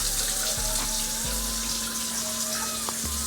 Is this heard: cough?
no